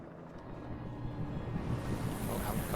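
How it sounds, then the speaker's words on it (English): Helicopter in the video game Alan Wake Remastered, a steady low rotor rumble and wash that swells slightly louder over a few seconds, heard alone without talk. "Oh, helicopter."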